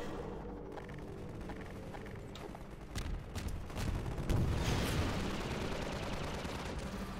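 Gunfire in the first-person shooter Half-Life 2, a mix of sharp shots and rattling bursts at moderate distance that grow busier and louder toward the middle, over a rumbling game background with no speech.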